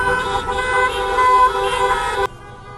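Car horns sound from passing drivers backing a street rally for prisoners of war on a Kyiv avenue: a sustained, loud blare of several overlapping horns that ends abruptly, with faint crowd noise beneath.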